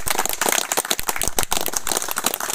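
Applause for a government official at a gathering, a dense burst of many hands clapping fast and irregularly, loud and close, with no talk over it.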